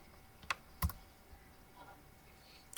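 A few isolated key presses on a computer keyboard, two sharp clicks close together near the start and another at the end, quiet and sparse with no voice.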